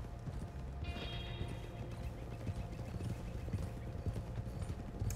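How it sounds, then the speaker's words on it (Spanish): Horse hooves clip-clop steadily in Red Dead Redemption 2 on PS4, a continuous mid-level trotting rhythm over low ambient background, with a brief high tonal whine early on and no talk. "Va a haber que correr con los caballos."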